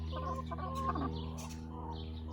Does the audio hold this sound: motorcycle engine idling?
no